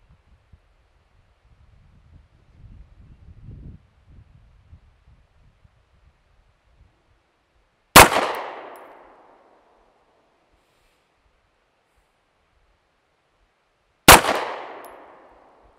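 A pistol fires two loud, sharp shots about six seconds apart. Each shot is followed by a fast-fading echo, and both come after a quiet stretch with only faint rustling.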